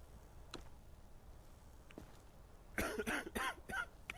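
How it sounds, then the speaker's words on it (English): A person's odd, weird-sounding cough: a burst of several rapid harsh coughs near the end, preceded by faint clicks and a quiet room, close and without speech. "You got a weird cough."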